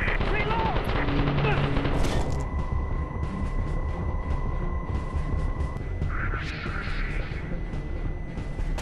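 Gunfire from the Call of Duty video game, with dense, continuous rapid shots and rumbling battle noise filling the whole stretch, sounding loud and busy, with tonal game effects over it.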